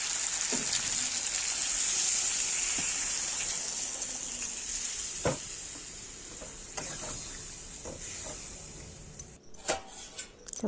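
Meat curry with gravy cooking in a kadai wok, a steady bright sizzle and bubble throughout with occasional clinks of utensils, fairly close and without talk.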